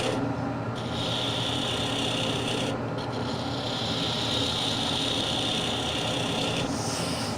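A wooden vase spinning on a lathe while a tool cuts a detail line into it, giving a steady rasping, scraping hiss with a high whine that breaks off briefly and returns, with no talking.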